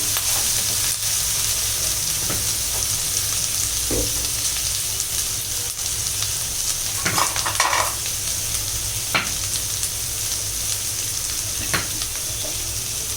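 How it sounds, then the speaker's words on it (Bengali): Prawns frying with salt in a pan give a steady, close sizzle throughout, with occasional scrapes and clinks of a spatula stirring in the pan. "লবণ দিয়ে কিছুটা ভেজে নেব।"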